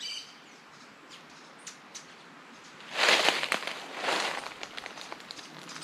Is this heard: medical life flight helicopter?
no